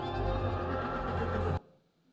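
A horse in a dramatic film scene with charging horses gives one loud, sustained neigh, which cuts off abruptly into near silence.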